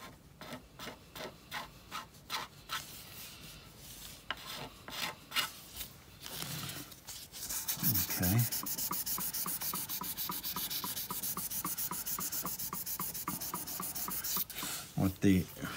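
Fine 1000-grit sandpaper rubbing along a wooden guitar neck during a ding repair, first in short separate strokes, then a steady continuous close rasping scrub.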